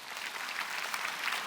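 Audience applauding in a church during a Korean prayer meeting sermon, a steady, dense patter of many hands clapping at moderate distance, with no voices.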